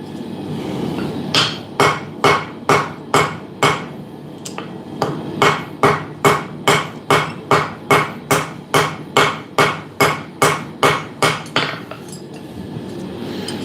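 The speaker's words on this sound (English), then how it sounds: "And now I'm just going to upset the rivet cold a little bit to lock them in place." A hammer cold-upsets a lock rivet with about two dozen sharp, ringing metallic strikes in a steady, quick rhythm, close and loud, with a brief pause partway through and no talking.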